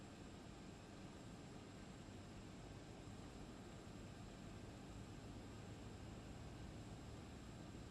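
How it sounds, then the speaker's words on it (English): A Boeing 767F cargo jet in X-Plane 12 starts engine number 1, giving a faint, steady mechanical drone and hum with thin high whining tones and no change over the full length. "let's start up engine number 1"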